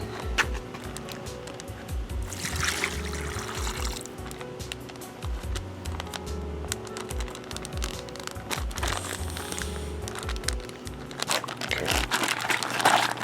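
A plastic bag crinkles and crunches close by while Italian dressing and Coke marinade glugs and splashes into it over alligator meat, with steady rustling throughout.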